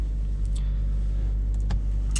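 A 2020 Toyota Yaris petrol engine idles steadily just after starting, giving a low constant hum, with a few light clicks and rattles inside the car.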